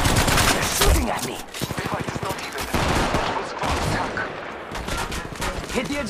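Gunfire in the mobile battle-royale game Apex Legends Mobile: loud, continuous automatic bursts and rapid shots crackling almost nonstop, with brief dips and game voices underneath.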